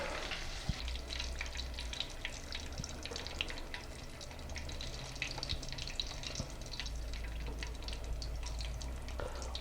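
Shrimp frying in hot oil crackle and sizzle steadily and close, a dense continuous hiss with scattered pops throughout and a low rumble underneath.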